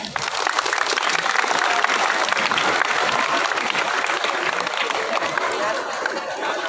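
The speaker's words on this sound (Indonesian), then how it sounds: "Kita tepuk tangan dulu dong." A crowd applauding loudly and steadily at a police morning assembly, a dense wash of clapping that fills the whole stretch without a break.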